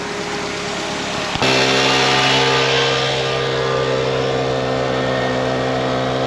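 A turbocharged engine with a turbo barrel setup suddenly revs up and holds a loud, sustained, throbbing high-rev note as boost builds, running alone without talk.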